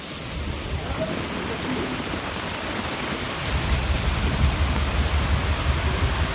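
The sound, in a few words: heavy rain pouring off ferry deck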